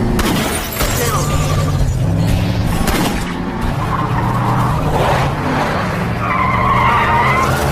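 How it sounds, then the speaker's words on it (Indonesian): Tires skid and squeal during a film car chase, with roaring engines, loud and continuous throughout, and a shattering crash partway through. "Sempat terjadi aksi kejar-kejaran mobil"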